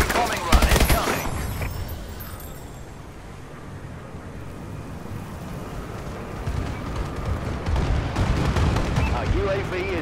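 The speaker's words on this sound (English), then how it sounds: "Friendly bombing run incoming." Heavy explosions and gunfire roll in from a friendly bombing run in Call of Duty: Advanced Warfare, with a sharp blast at the start and a dense, rumbling barrage building again near the end.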